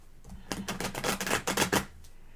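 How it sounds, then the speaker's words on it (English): Tarot cards shuffled by hand during a reading, heard as a rapid, close run of crisp papery flicks and taps lasting about a second and a half, with no talking. "I'm going to shuffle a couple more times."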